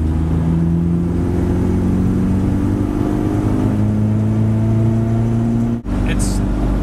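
Fuel-injected four-cylinder Isuzu Trooper engine running steadily at a low, even drone, with a brief dropout near the end; someone talks over it.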